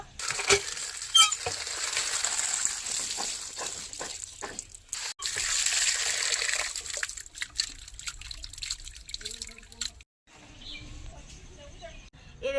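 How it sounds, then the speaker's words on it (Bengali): Small peeled shrimp being rinsed in water, with steady splashing, swishing and dripping that fills most of the clip, stops briefly near the end, then resumes more lightly. "চিংড়ে মাছগুলো খোলা ছাড়ানো হয়ে গেছে এবার ধুয়ে নেব"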